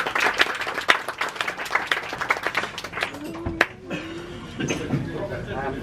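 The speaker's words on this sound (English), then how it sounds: "a round of applause for the restaurant and the waiting staff" Audience at a poetry festival event in Matka Canyon clapping for the restaurant and waiting staff, a lively close round of applause that fades after a few seconds as talking continues.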